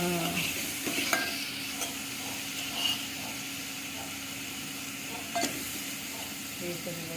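Chicken curry cooks in oil in a pot, with ginger and chilli powder added. It sizzles softly and steadily, and a spoon scrapes and stirs in occasional light bursts, close by and fairly quiet.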